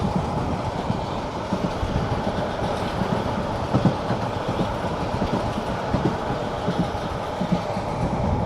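A passenger train travels to Cox's Bazar through hilly country, heard from inside as a steady rumbling roll with faint rhythmic clacks of wheels over rail joints, continuous and fairly close, without talk.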